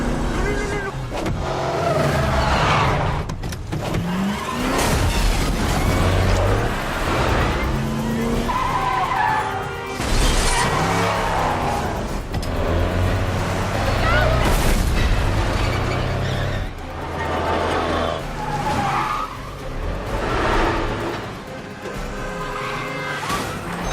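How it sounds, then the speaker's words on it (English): Film stunt cars skid and roar around a corner at 30 to 40 miles an hour, loud tire squeals and engine booms passing close, with talking over the chase. "these cars are still hurtling by at 30 or 40 miles an hour as they come around this corner"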